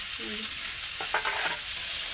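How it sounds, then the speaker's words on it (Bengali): Onion shoots sizzle steadily in a hot pan on a traditional stove, with a few quick stirring scrapes partway through. "পেঁয়াজের কলিটা ভাজা হচ্ছে"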